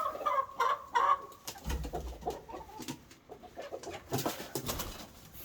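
Several young chickens, about four to six months old, cluck and coo close by, a busy flock chattering with short overlapping calls and a soft low thump partway through.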